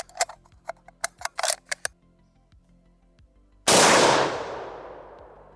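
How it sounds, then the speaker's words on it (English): A single loud rifle shot from an RTI Lee-Enfield firing a 150 grain PPU round, with a sharp crack that decays into a long ringing tail, preceded by several light mechanical clicks and taps of rifle handling. "Well, the rifle shot, so at least that's something."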